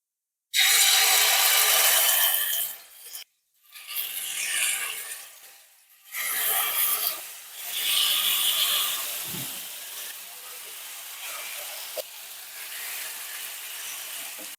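Chicken tandoori kebab pieces laid into hot white oil in a pan, hissing loudly at first, then fading and flaring again in bursts as more pieces go in, ending in a softer steady sizzle.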